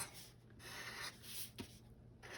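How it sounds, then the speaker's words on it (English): A Sharpie marker filling in dots on paper makes soft, scratchy back-and-forth rubbing strokes in a quick repeated rhythm, very quiet and close, with no voices. "I'm going to start coloring in my dots with my Sharpie now."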